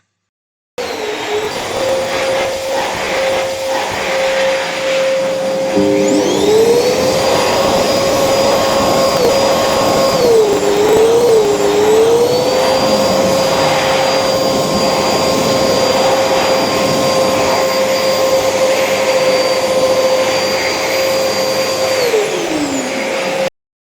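A new Airforce hand dryer in a food court toilet runs steadily and loudly for about twenty-three seconds, a whining motor tone that rises in pitch shortly after starting, wavers briefly, then spins down at the end.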